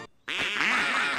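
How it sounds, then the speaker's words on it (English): Cartoon biker dogs quack like ducks: a loud, buzzy, nasal quacking burst that starts abruptly after a brief pause and runs on close and steady, with no talking over it. "the only persons who can talk are Bidouche and Sway Sway. The rest quacks."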